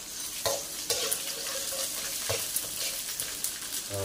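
Rattan shoots fry with shallots and garlic in a rural kitchen pan, producing a continuous crackling sizzle punctuated by several sharp spatula scrapes and clanks, with no speech.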